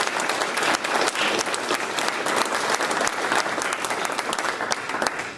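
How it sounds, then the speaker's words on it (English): Applause from an audience at a TSA airport awards ceremony for an honoree named Jason. The clapping is full and sustained, moderately loud and even, and carries on alone for several seconds. "So if we could, a round of applause for Jason."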